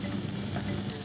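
Garlic sizzling in hot oil as a tempering for millet spinach khichdi, a loud, dense, crackling fry close by with constant spattering and no gaps.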